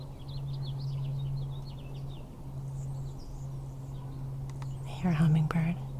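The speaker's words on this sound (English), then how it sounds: "And the birds, birds," Faint bird chirps and twitters sound in the distance over a steady low hum, with a soft whisper and a brief closer rustle near the end.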